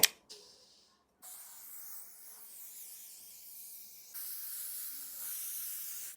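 Several bursts of steady hissing spray from a spray bottle of hair product, a short one first, then a long continuous spray that grows slightly louder near the end, close by.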